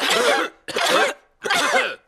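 Cartoon characters cough in three loud, harsh bursts of roughly half a second each, separated by short gaps, with no talk.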